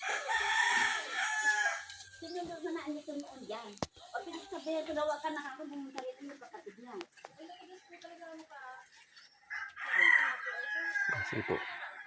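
A chicken's calls ring out in the open, with a rooster crowing and clucking at moderate distance, while people talk nearby over the repeated bird calls.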